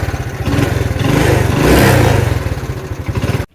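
An old motorcycle engine starts and revs up, a loud, close, chugging exhaust rhythm that swells to a steady roar in the middle before settling back to a pulsing idle and cutting off abruptly at the end.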